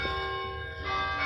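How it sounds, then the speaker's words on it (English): Bells ring steadily throughout, sustained bright tones with a stronger strike near the end, loud and close with no talking. "The sleigh bells are ringing."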